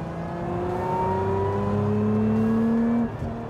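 Supercharged V6 in a Lotus Emira set to track mode, a steady close engine drone with a rising supercharger whine climbing in pitch for about three seconds before easing off, no voices.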